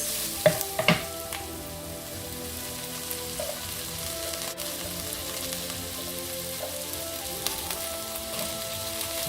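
Prawns, broccoli and sweet corn stir-fried on high heat sizzle steadily in a pan, with a few clinks and scrapes of stirring near the start.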